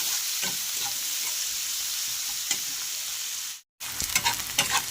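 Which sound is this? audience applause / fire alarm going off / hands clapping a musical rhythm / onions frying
onions frying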